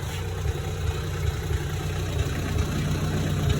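Engine of a Gen 2 Mitsubishi Pajero running steadily at idle, a close, even low rumble with a slight rhythmic pulse and no talking over it.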